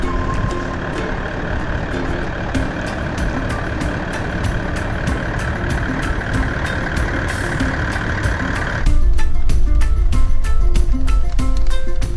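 A four-wheel-drive vehicle's engine rumbles steadily while it drives slowly off-road in Africa, with rattling and a louder, lower drone setting in toward the end.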